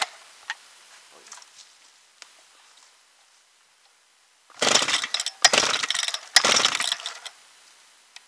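Chainsaw being pull-started for tree work: three rapid rasping bursts of the starter cord near the end, after quiet scattered clicks and handling noise, with no engine catching.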